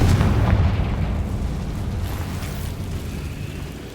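A Confringo explosion spell goes off in Hogwarts Legacy, a loud booming blast that rumbles and slowly fades over several seconds.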